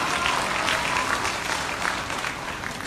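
Steady crowd applause from an audience at an Alliance in Motion Global business meeting, moderately loud and continuous with no voices rising above it.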